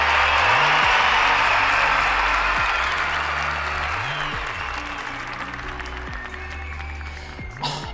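A Mycroft voice assistant plays a recorded applause and cheer sound, a burst of crowd clapping that gradually fades over several seconds, with music-like tones in the background.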